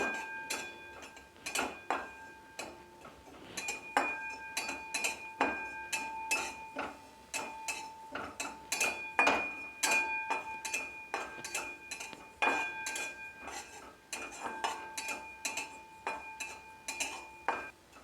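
Spices being stirred as they fry in a pan over low heat, with a steady run of light metallic clicks and taps from the utensil against the pan, fairly close and continuing without talk.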